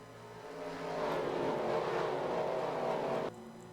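Race cars in a racing video game at Talladega Superspeedway roar at full throttle after a restart, a dense, rising engine howl that swells and then cuts off abruptly.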